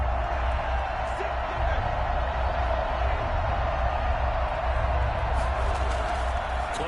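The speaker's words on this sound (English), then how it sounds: "Crowd getting in it a bit already." Football stadium crowd roars steadily before a third-and-ten snap in a professional game, a dense, sustained wall of cheering and noise with scattered whoops, heard at a distance without a break.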